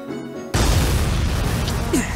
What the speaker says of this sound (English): An explosion has occurred on board.